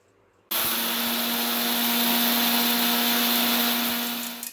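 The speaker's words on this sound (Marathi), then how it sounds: "आणि याच प्रकारे मी आता ही सगळी आपली डाळ मिक्सरमधनं दळून घेणार आहे" A mixer grinder grinds matki (moth bean) dal. It starts abruptly into a loud, steady whirring drone that holds for about four seconds, then winds down slightly at the end, with no speech.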